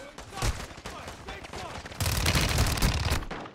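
Shotgun fire in a video game battle, loud booming blasts near the start and a dense burst of rapid gunfire in the second half, with voices talking over parts of it.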